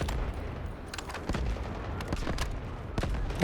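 Sniper rifle shots and surrounding gunfire ring out in the Delta Force shooter game, with sharp repeated cracks over a dense, continuous roar of battle noise and no talking.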